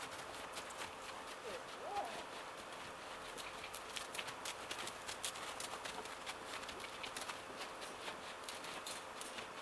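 A horse canters with a fast, steady clip-clop of hooves at moderate distance, the rhythm continuing throughout under a constant outdoor hiss.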